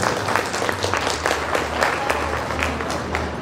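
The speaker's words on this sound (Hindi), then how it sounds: "एक बार जोरदार ताली बजाकर उसका भी स्वागत करें।" A crowd at a ceremony applauds vigorously, loud continuous clapping from many hands with a low steady hum underneath, sustained throughout.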